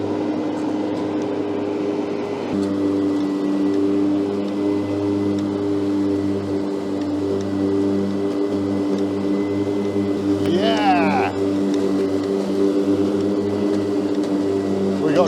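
EGO battery ride-on mower running its cutting blades through rough field grass, a steady close whirring drone with a tonal hum that holds for the whole stretch; a voice speaks over it.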